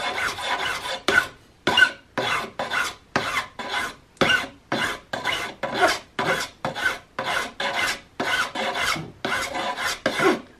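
A finer file rasps across a brass nose cap on a muzzleloader rifle build, about twenty quick, evenly spaced strokes, each a close, crisp scraping burst with short pauses between.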